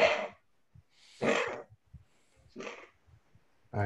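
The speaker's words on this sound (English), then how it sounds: "Is that your dog, Matt?" An old pug with emphysema barking in a few short, hoarse bursts separated by pauses, close and fairly loud, with no one talking.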